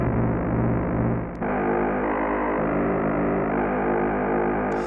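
A synth tone runs through a Behringer BM-14M and a MoogerFooger delay, a loud sustained, gritty note with swirling modulated echoes that shifts pitch in a few steps, heard alone without voices.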